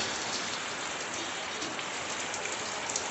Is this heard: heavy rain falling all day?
yes